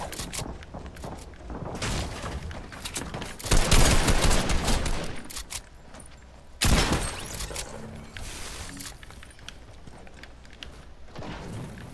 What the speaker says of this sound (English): Hit him for 25 with my shotgun.